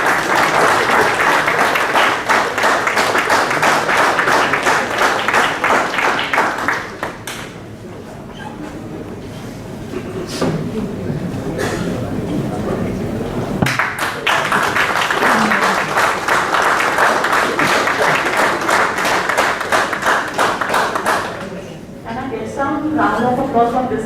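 An audience at a business school mentor meet claps loudly and steadily. The applause fades into a quieter stretch, swells into a second full round, then dips briefly before picking up again, with faint voices in between.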